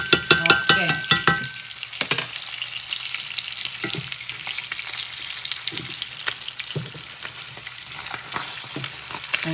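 Thick smoked salmon fish sizzles steadily in a hot frying pan, with a few louder clattering stirs and flips near the start and occasional spatula knocks over continuous close frying crackle.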